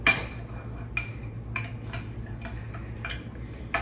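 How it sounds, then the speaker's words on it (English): Utensil scraping and clinking against a mixing bowl while melted butter is stirred for a giant cookie, a series of sharp, light taps at irregular intervals over a low background hum. "now that our butter is melted, I'm just gonna stir"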